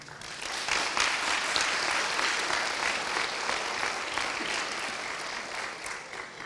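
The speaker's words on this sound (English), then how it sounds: "So give yourselves some applause, people." A crowd at the Bluegrass Challenge Academy Class 48 ceremony claps in a sustained, dense burst of applause, steady for several seconds and tapering slightly toward the end, with no talking over it.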